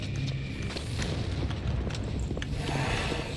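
Anti-tank explosions in Battlefield 1942 on Wake Island, a dense stretch of repeated booms and pops over a continuous low rumble of battle.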